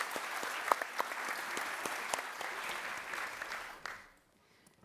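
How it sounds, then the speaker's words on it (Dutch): Fairly faint audience applause for two panel members at an economic outlook presentation, brisk scattered claps that swell, then die away near the end into a quiet room. "Mag ik een applaus voor beide?"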